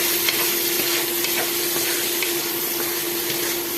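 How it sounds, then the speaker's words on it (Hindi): Chopped onion frying in a pan for aloo palak, a constant close sizzle with faint intermittent stirring taps and a steady background hum, no talking. "अब हम इसमें ऐड करेंगे चॉप्ड ऑनियन, अब हम इसको अच्छे से फ्राई कर लेंगे।"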